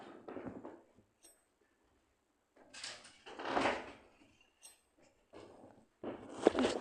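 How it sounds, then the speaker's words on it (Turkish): A door swings shut in a dentist-themed parkour video game, heard as a few short, soft knocks and scrapes spread across the clip between quiet gaps. "Kapıyı kapattım."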